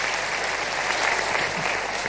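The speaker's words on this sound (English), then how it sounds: "Let me propose a round of applause for all those who gave wonderful suggestions." Applause from a large audience at a presidential town hall meeting in a conference hall, a thick, even patter of clapping that holds steady and loud for the whole stretch.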